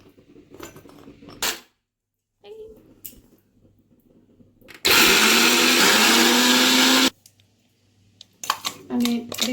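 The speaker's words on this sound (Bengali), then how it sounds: "এই মিক্সির জারটাতে আমি এই বিস্কুটগুলো আমি গুঁড়ো করে নেব আগে।" A mixer grinder jar pulverises Oreo biscuits in one loud, continuous whirring burst of about two seconds, with handling clatter and quieter sounds before and after.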